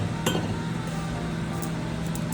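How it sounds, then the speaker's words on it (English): Matcha powder pours into a glass mason jar with a soft steady hiss, a couple of light glassy clinks standing out close by. "So I'm going to pour this powder into this jar."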